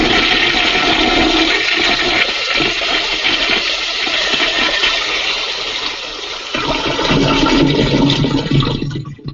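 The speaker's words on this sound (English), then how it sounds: "why do we flush this down the toilet, Nay?" A toilet flushes in a home, a loud, close, continuous rush of swirling water that holds for several seconds and then eases into a lighter refill trickle at the end.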